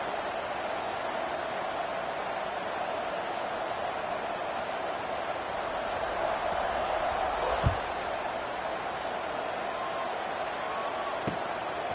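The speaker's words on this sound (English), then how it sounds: "this crowd is buzzing after that last score" A stadium crowd at a football game keeps up a steady, dense buzz after a score, a continuous wash of noise with no breaks, with a faint thud near the middle.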